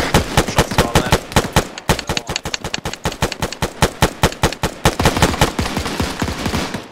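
Rapid automatic gunfire in an Arma 3 battle, dense bursts of loud shots rattling almost continuously with brief gaps, close and harsh, with no voices over it.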